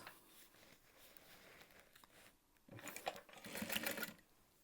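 A sewing machine top stitching a backpack, quiet and distant at first, then a louder run of stitching in the second half with some fabric rustle.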